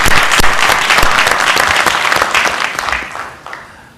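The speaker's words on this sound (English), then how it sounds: "Let's give the entire panel a round of applause" An audience at a panel discussion applauds the panel, loud close dense clapping that fades toward the end.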